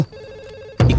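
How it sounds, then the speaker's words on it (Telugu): A phone rings close by with a steady electronic tone, then a loud burst of noise cuts in at the end. "ఇక్కడ పక్కన రింగ్ అవుతుంది"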